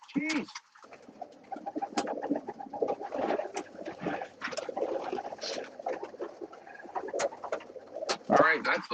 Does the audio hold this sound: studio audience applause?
no